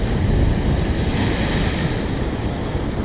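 Rough sea waves crash and roar close by on a fishing spot, a loud broadband wash mixed with wind buffeting the microphone, with no voices over it.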